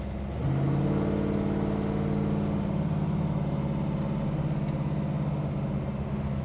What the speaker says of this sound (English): We're idling nicely. Not stalling out.